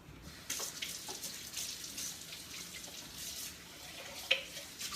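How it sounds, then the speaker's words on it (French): Tap water runs into a sink while a Ninja food processor bowl is rinsed out, a steady broadband splash with brief clatters of the container, close by and with no voices. "On va rincer notre Ninja."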